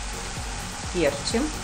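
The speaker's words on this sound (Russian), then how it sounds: "Снова мешаем и оставляем жариться на 2-3 минуты." Zucchini and carrot strips frying in a pan give a steady sizzle throughout, with a few soft stirring scrapes; a brief spoken word sits over it.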